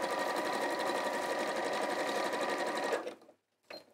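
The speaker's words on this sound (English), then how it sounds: "I'm going to do a zigzag stitch all the way around to stop it fraying anymore." A sewing machine runs steadily for about three seconds, stitching a zigzag along a fabric edge to stop fraying, then stops abruptly, leaving a brief quiet gap and a faint sound afterward.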